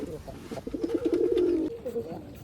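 Pigeons coo in a rhythmic, throaty series during rainy-weather pairing of birds, a clear rolling burst mid-clip with softer coos before and after, close by; a voice is also faintly present.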